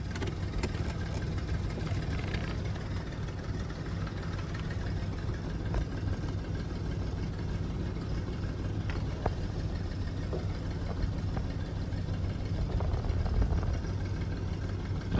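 A BMW E46 with a blown head gasket idles with its EGR valve disconnected, giving a steady, loud, close engine drone with a faint irregular ticking over the low rumble for the whole stretch, and no talking.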